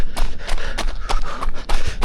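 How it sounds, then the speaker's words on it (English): Running footsteps on sharp rocks in thin shoes on a mountain trail during a half marathon, a quick series of crunching, scuffing impacts about every quarter second, close and fairly loud. "that is what the sound of stepping on sharp rocks with thin shoes sounds like"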